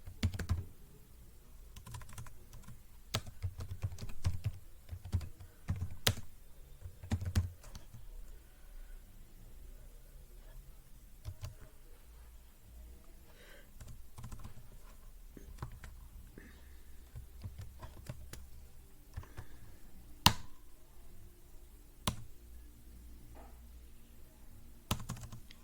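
Commands are typed on a computer keyboard while installing Jenkins on Red Hat 9, with irregular bursts of close, crisp keystrokes and occasional sharper key presses over a quiet hum.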